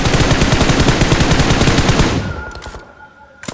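Rapid, loud automatic gunfire from the video game PUBG rattles in a dense burst for about two seconds, then stops, with a few faint clicks and a short sharp noise at the end.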